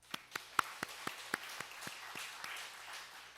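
A handful of sharp, separate claps ring out at a Sunday church service, then fade into softer, scattered clapping that slowly dies away.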